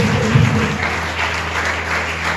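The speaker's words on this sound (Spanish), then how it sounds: "Denle un aplauso al Señor" A church congregation claps for the Lord during a Spanish-language service led by a pastor, giving steady, dense applause that holds for the whole stretch over a low, constant hum.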